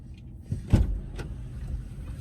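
A car door and power window work as a child climbs into a parked car for the drive home from school: a couple of brief, near thumps with a faint motor whir over a low idle rumble.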